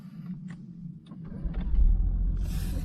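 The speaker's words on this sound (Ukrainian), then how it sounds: "Легенько натискаю на гальма, запускаю двигун." An all-wheel-drive car engine starts with the brake pressed and the handbrake on, a low rumbling that builds and settles into a steady idle after a few quiet clicks.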